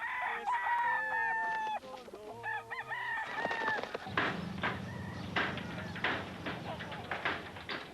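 Trained fighting roosters crow and cluck in a loud, close series of calls, with farmyard bustle and some talk underneath.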